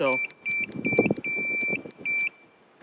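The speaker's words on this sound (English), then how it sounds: "this beep, this horn is a little bit, it has a deeper bass to it" Several short electronic beeps from a Segway P100S electric scooter horn in a quick irregular pattern, high and thin, under a person talking nearby.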